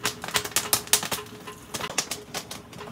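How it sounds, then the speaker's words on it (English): Jiffy Pop popcorn pops in its foil pan on a stove: a quick, irregular run of sharp, fairly soft cracks and pops, dense at first and then thinning out, with no talking. "I still hear popping, but it looks really big."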